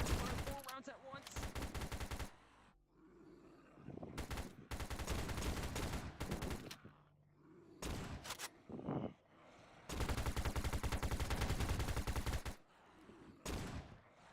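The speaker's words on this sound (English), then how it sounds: "Fire 4 rounds at once." Gunfire in VRChat comes in long, loud, rapid automatic bursts with short pauses between them, repeating across the stretch, with some quieter gaps and faint voices.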